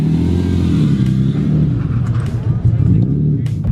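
A 700hp-plus BMW E46 M3 drift car's engine drones loudly and steadily from inside the cabin during a ride, with rising and falling harmonics as it revs, while people talk over it.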